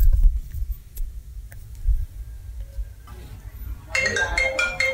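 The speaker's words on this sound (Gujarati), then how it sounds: "ફોન વાગે છે" A mobile phone ringtone starts up after a stretch of quiet movement and faint background sounds, ringing in repeated melodic bursts near the end.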